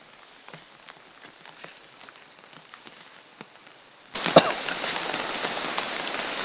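Light rain patters faintly with scattered drips at first, then a louder, steady hiss of rain falling on a surface nearby.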